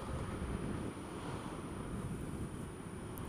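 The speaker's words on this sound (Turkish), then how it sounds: "Poyraz fırtına halinde." A strong northeasterly gale roars and buffets the microphone in a constant low rumble, with no voices present.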